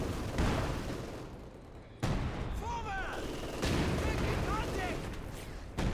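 Artillery barrage in Company of Heroes 2, heard as a string of heavy booming blasts in a dense, continuous roar, with sharp impacts at intervals and faint whistling shells overhead, under occasional game noise.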